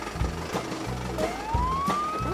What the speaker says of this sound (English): The siren on the fire truck goes woo woo woo